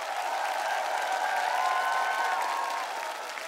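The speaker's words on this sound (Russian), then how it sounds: "Под аплодисменты" A studio audience at a televised choir competition show applauds steadily, a continuous clapping wash with faint cheering and tonal voices mixed in, easing slightly toward the end.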